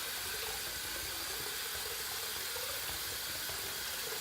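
A razor is swirled through hot water in a sink, giving a steady, close hiss of running and sloshing water that continues without a break and without speech.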